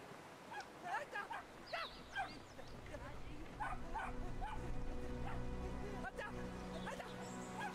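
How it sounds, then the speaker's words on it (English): Barks and whimpering yips from a small dog in the video game Brothers: A Tale of Two Sons come in short bursts over game music and ambience, with someone talking at times. "Yeah, go get him, little dog."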